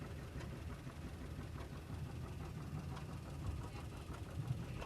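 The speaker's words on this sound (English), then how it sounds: "coming up, an AR John Deere" A John Deere AR tractor, the standard model of the A row crop, runs at a threshing show with a steady, moderately loud engine rumble and no talk.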